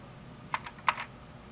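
Keys on a Briel Replica I, an Apple I clone computer, are pressed: two distinct close clacks, each followed by a softer release click, in a quiet room.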